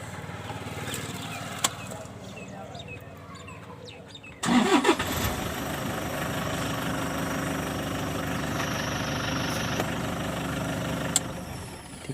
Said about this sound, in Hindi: गाड़ी भी पहले सलफ पे स्टार्ट हो गई है